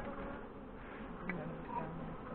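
Honey bees flying in their flight line at the hive entrance on a fireweed honey site, a steady close buzzing hum that continues throughout.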